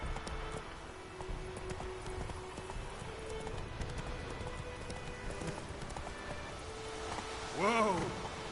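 Roach the horse gallops in The Witcher 3 with a rapid, steady clip-clop of hooves over game ambience, ending in a short whinny near the close.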